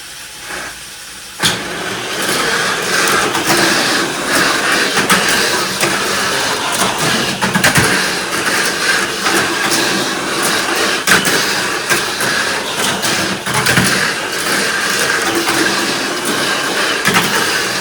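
Mini 4WD toy cars, an X-Flowly on an MS chassis against a Beak Spider on a Super 2 chassis, race around a track with a steady loud whirring motor buzz that holds for the whole run after a brief quieter start.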